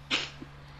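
A single short, sharp sneeze close to the mic, a quick breathy burst followed by a faint trailing sound, over a low steady hum.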